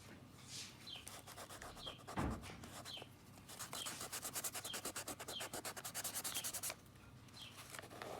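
Charcoal drawing being worked with a blending stump, a soft dry rubbing and scratching on paper in short strokes, with a faster rhythmic burst of back-and-forth rubbing near the end, close and quiet.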